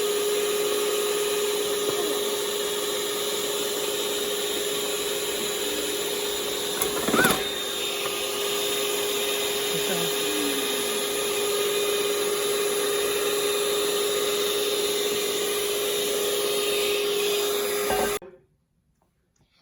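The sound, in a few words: stand mixer mixing bread dough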